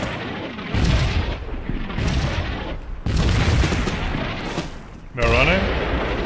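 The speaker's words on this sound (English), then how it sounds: "German tank just shot at them automatically as well." German tank cannon firing in the Combat Mission World War II strategy game, with several booming blasts and rumbling battle noise through the scene while someone talks over it.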